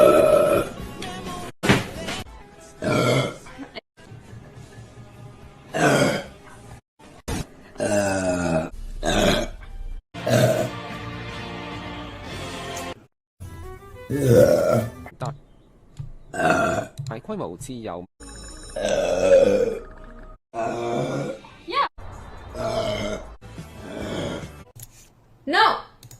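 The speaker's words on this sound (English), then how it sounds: "I can't stop burping." Loud burps repeat in short bursts with gaps of silence between them, some long and croaking, mixed with brief spoken words and gasps.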